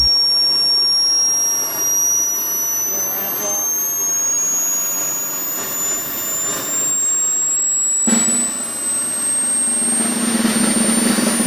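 Turbinator 2 model jet turbine engine running steadily with a high rising whine and loud broadband roar throughout, the rush swelling brighter near the end as it throttles up.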